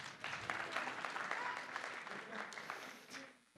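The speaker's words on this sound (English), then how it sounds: "Round of applause for technology." A convention panel audience applauds steadily at an anime fan event, the clapping dense and sustained throughout with a few cheers mixed into the crowd noise.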